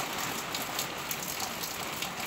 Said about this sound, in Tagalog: yung ulan mga palangga pabugso-bugso